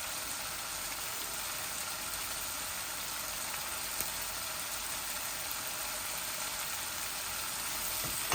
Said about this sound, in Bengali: আলুগুলো আর একটু ভাজা ভাজা হয়ে যাক।